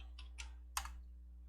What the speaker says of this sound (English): we can test by typing in